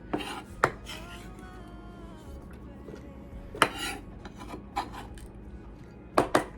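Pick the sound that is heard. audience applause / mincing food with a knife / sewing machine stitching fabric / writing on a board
mincing food with a knife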